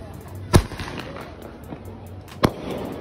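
Two sharp, loud single-shot firework bangs about two seconds apart, set off outdoors during a Janmashtami celebration, each a sudden crack with a brief echo, with people talking and calling faintly in the background.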